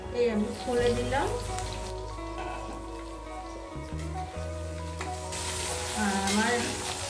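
Okra frying in an uncovered pan while cooking achari bhendi, a continuous crackling sizzle at moderate level throughout, with someone talking over it near the beginning and again toward the end.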